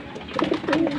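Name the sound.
racing pigeons cooing in a loft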